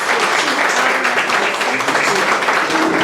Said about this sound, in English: Let's give a Chorizo Menudo applause.